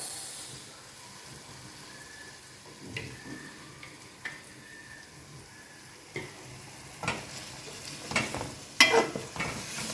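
Mutton sizzles and fries in a pan as soy sauce goes in, a low steady hiss punctuated by sharper crackles and stirring clatters that grow louder toward the end.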